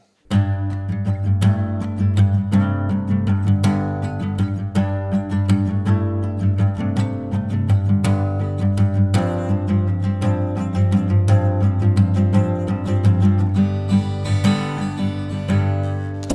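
A strummed, fretted chord progression plays on its own at steady loudness, with a lilting triplet rhythm and no voices.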